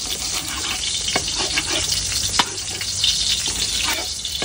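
Garlic frying in a gallon of cooking oil, a steady crackling sizzle with occasional stirring clicks, close up and without talk.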